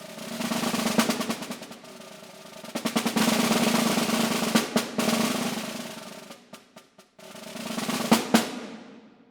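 Concert snare drum etude number 6 from a masterclass: swelling buzz rolls that crescendo and fade, punctuated by sharp accented strokes and brief pauses, crisp and close, solo with no speech.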